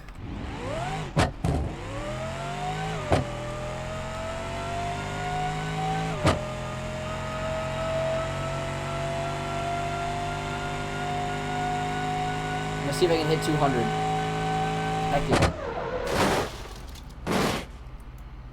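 A revving car engine in BeamNG.drive climbs steadily through the gears, punctuated by several sharp, loud backfire pops from a backfire mod, with someone talking briefly over it.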